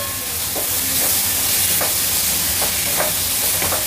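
Paneer is stirred into masala frying in a pan, producing a loud, steady sizzle with repeated scraping stirs at roughly half-second intervals.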